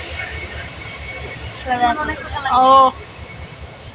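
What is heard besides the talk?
departing train, wheels squealing on rails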